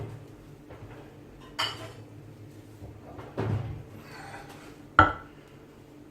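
Hot glass jars taken from the oven for rendered lamb tallow are handled in a kitchen, a few scattered knocks, glassy clinks and one sharp clunk among quiet pauses, close and sparse.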